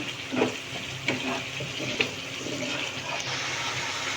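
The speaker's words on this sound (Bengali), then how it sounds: "এবার মশলাটা ভেজে নেবো ভালো করে।" Spice paste for a mustard pomfret curry fries in hot oil in a pan, giving a steady close sizzle with a few sharper spits and stirring knocks.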